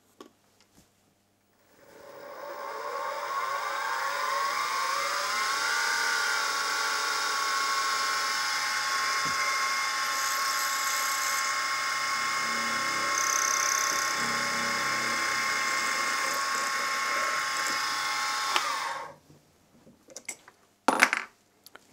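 A 3.2mm stub drill bores into a steam engine crosshead on a machine, giving a steady high whine with tonal overtones that holds for about seventeen seconds and then stops, with some clatter at the end.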